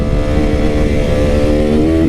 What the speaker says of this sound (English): they're cool bikes. They got a lot of bottom end grunt